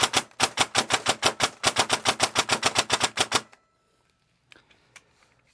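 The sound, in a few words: VFC 417 airsoft rifle firing semi-auto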